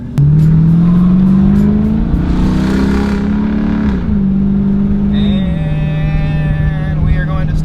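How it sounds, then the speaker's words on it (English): A Jeep SRT8 accelerates hard from close range, its engine drone climbing steadily in pitch, easing briefly, then holding a loud steady note as the vehicle speeds up. "Let's get up to like 50-ish and slam the brakes"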